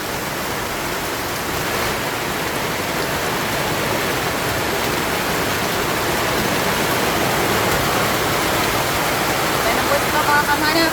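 Heavy rain falling during a typhoon, a dense, steady hiss that stays loud and unbroken throughout, with no clear voices over it.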